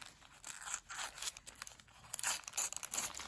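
Painted fusible webbing peeled from brown paper bag material, a crinkly papery tearing and crackling that comes in several uneven bursts, close and fairly quiet, with no talking.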